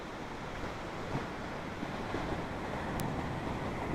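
Calm sea waves off the beach at Puri, Odisha, heard from a boat as a soft, continuous wash of water mixed with wind rush, fairly quiet and even.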